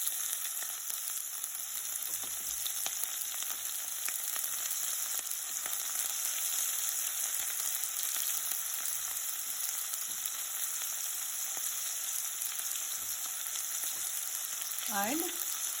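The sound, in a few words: ginger, garlic and onion frying in pan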